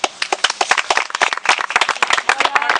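Applause for a donor at the Camille Flammarion centenary event, close, crisp hand claps from a modest crowd, dense and uneven, continuing throughout.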